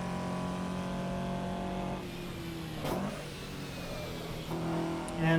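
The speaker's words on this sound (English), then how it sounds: "This is still a good engine though. Still sounds decent for a 4-cylinder" A tuned Toyota AE86 four-cylinder engine in a racing video game revs and holds a steady buzzing drone, then shifts pitch with a couple of brief bursts, close and fairly loud with no talking.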